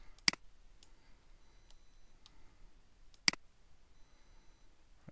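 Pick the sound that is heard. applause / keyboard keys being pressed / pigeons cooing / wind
keyboard keys being pressed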